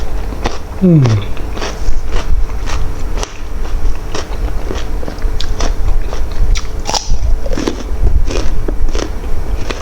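Crunchy chewing of a spicy Thai salad made with chicken feet and other ingredients, close-up bites and crackling crunches repeating irregularly, with brief murmurs in between.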